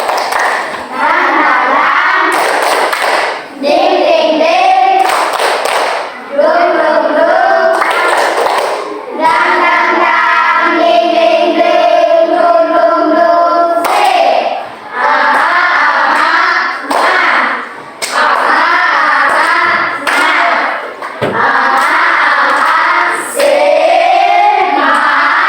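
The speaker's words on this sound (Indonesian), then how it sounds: "Tepuk semangat." A group in an Indonesian teachers' coaching session performs a 'tepuk semangat' clapping chant, bursts of rhythmic hand claps mixed with loud chanting voices, close and energetic.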